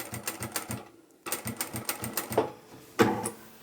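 A home sewing machine stitches across a small scissor keeper pouch in quick rhythmic bursts of needle clatter, stopping briefly and starting again, close and clear.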